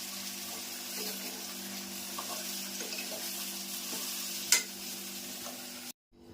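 Vegetable tempering for a ridge gourd curry sizzles steadily in a pan, a continuous close hiss with faint scrapes that cuts off abruptly near the end.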